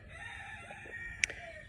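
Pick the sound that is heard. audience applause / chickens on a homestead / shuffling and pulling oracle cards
chickens on a homestead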